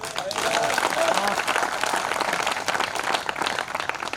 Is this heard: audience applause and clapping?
yes